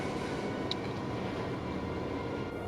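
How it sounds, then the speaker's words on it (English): A passing train rumbles as a steady, loud, broadband roar with no pauses, heard from inside an old school building. "The train is loud."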